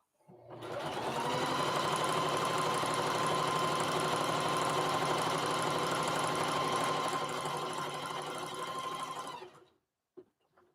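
A sewing machine stitches a lunch tote in one steady, continuous run of about nine seconds, then stops, leaving a couple of faint clicks in near silence.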